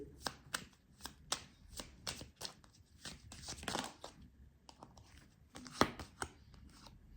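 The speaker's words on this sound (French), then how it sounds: "Ensuite, je vais vous sortir une carte chemin de vie." Oracle cards are shuffled and drawn by hand, a series of quiet, crisp papery riffles and slaps with one sharper snap near the end, close up in a quiet room.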